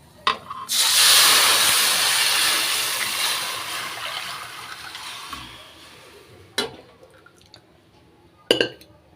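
A loud burst of hissing sizzle as lentil water hits hot tempering oil, tapering off over several seconds, followed by a couple of sharp clinks of utensils.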